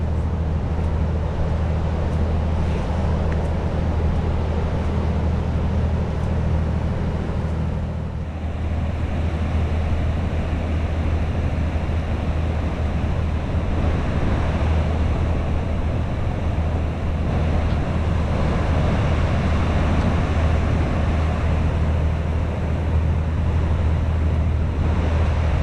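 Atlantic Ocean waves break on the shore beside a state park beach in autumn, a steady broadband wash with a low rumble and wind noise throughout, and no voices.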